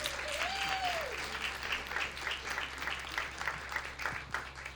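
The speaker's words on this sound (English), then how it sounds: "Give a round of applause." A storytelling-slam audience claps in a steady round of applause, moderately distant, over a low electrical hum, with a short whistle-like tone at the start.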